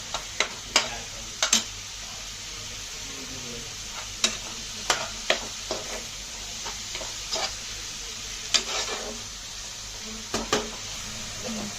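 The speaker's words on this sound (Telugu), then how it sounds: "తర్వాత అల్లం వెల్లుల్లి పేస్ట్ వేసుకోవాలి వేసుకొని బాగా వేయించుకోండి" Ginger garlic paste frying in a pan for a masala egg fry, a low continuous sizzle dotted with sharp spoon clicks and scrapes against the pan at irregular intervals, close with no talking.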